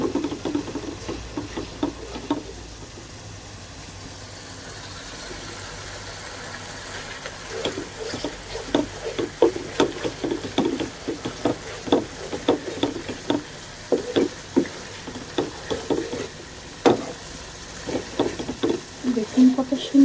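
Ground spices, including a fresh paste, are stirred in a pan for a dried-fish and jackfruit-seed dish, with repeated sharp scraping and clinking strokes of a spoon in an irregular rhythm over a low sizzle.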